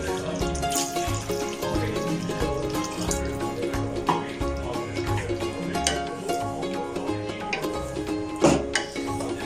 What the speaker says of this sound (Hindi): मैं तकरीबन इसके अंदर 1 कप पानी ऐड करूंगी।